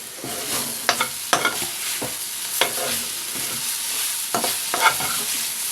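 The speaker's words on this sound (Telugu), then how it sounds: "ఒక స్పూన్ కొబ్బరి పొడి వేసి బాగా కలుపుకోవాలి" Coconut powder being stirred into eggplant frying in a pan, with a steady soft sizzle broken by repeated spoon scrapes and clinks at an uneven rhythm, close and alone.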